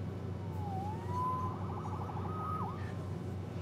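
A siren in a Spider-Man video game wails with rising and falling tones over a steady low hum, loud and close throughout.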